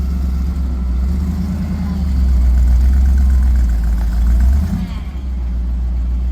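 A vehicle engine idles and pulls at low revs while a tyre is eased up onto a rock on hard left lock, the deep rumble swelling steadily then dipping, with a person talking over it.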